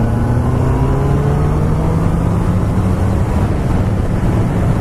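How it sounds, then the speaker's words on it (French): Loud, constant roaring rush of wind buffeting the microphone while riding a 2017 Honda CB 650F motorcycle, with a low engine drone underneath and no voices. "On a tout le vent en pleine face."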